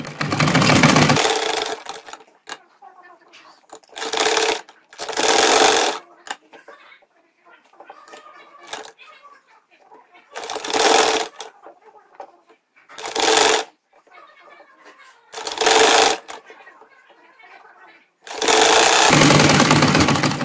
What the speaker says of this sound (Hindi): अब मैं आपको सिलाई लगाकर दिखाती हूँ।